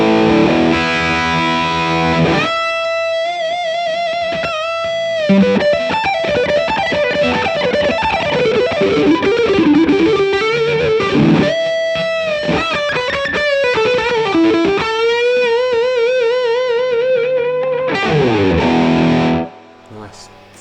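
An electric guitar played through an Origin Effects RevivalDRIVE overdrive pedal at high gain rings out in saturated, sustained phrases and bends with thick distortion, broken by a few brief pauses, loud and alone.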